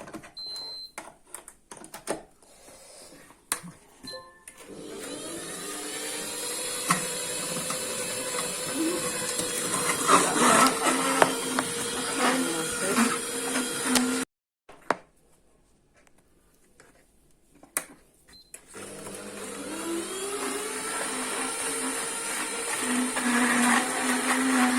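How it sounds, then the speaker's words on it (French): A juice extractor grinds steadily while juicing fennel and lemon, a loud mechanical whir with rattling, that stops briefly partway before starting up again. "je vais mettre l'extracteur en route pour"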